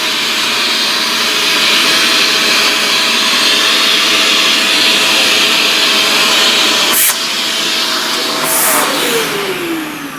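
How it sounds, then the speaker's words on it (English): A vacuum cleaner works close over pastel drawing paper, its loud, steady whine running continuously with a slight pitch shift and short bursts of air noise toward the end. "Never let your vacuum grab the paper."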